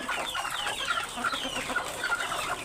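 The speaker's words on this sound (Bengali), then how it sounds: "আমার কিছু পাহাড়ি সবথেকে এক্সক্লুসিভ মোরগ আছে একটা গলাশিলা পাহাড়ি মোরগ লাল মোরগ আর একটা পাহাড়ি ঝুঁটিওয়ালা মোরগ" Hill breed roosters, including a red rooster and a crested hill rooster, cluck steadily and fairly close in a farm setting, their calls overlapping with no talk.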